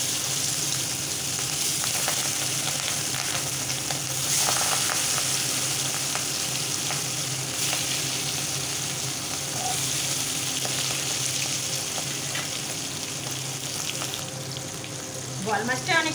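Pieces of boal fish fry in plenty of hot oil, a loud, dense and continuous sizzle close by that swells slightly as more pieces go in. A few sharp spatters come near the end.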